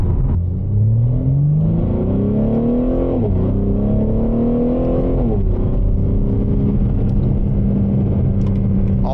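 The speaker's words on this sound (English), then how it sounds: "So yeah, I mean, the exhaust sounds great." A BMW G80 M3 with a broken-in exhaust revs close by. The engine rises loudly in pitch, drops, climbs again twice and then settles into a deep, steady rumble.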